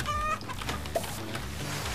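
Chickens cluck in the Roblox game Egg Farm Simulator, with short fowl calls mixed into a dense, noisy wash of game sound over two seconds.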